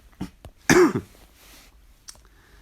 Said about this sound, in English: I'm going to leave it there because I'm going to keep coughing